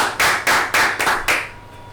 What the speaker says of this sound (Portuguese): Uma salva de palmas aí, galera